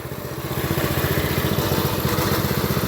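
A homemade go-kart engine runs close by with a fast, even chugging pulse and a loose rattle. It stays loud and steady for a few seconds with no talking.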